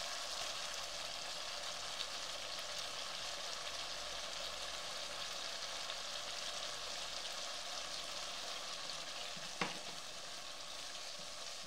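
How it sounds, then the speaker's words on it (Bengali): Spice paste of fried onion and cumin frying for a rohu fish head curry, with a steady loud sizzle and occasional soft scrapes and clicks of stirring throughout. "এক একটা করে মশলা দিচ্ছি এবং মশলাটা কষিয়ে নিচ্ছি"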